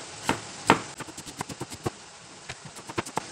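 A knife slices shallots, garlic and chilies by hand on a cutting board, a string of light, evenly paced taps close by with two heavier cuts at the start.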